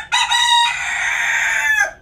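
A Tan Chau bantam rooster crows nearby, one loud, clear, sustained call lasting under two seconds.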